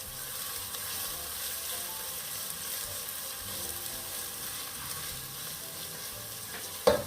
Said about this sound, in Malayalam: നല്ല പോലെ വരട്ടിയെടുക്കാം കേട്ടോ